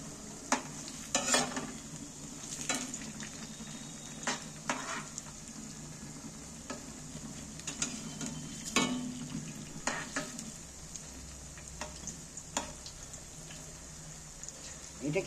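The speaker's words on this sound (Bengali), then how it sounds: "দেখো উল্টে পাল্টে ভাজছি, এটা কত সুন্দর ভাজা হয়েছে দেখছো" Snacks frying in hot oil for a quick homemade dish, with a steady crackling sizzle and repeated sharp clinks and scrapes as pieces are turned over in the pan, close and fairly loud.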